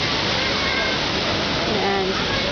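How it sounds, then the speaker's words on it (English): Rainwater rushes through a flooded wadi, a loud, steady broadband roar of churning, pouring water close at hand, with faint voices mixed in beneath. "because of all the rain, it has filled all the way up with water"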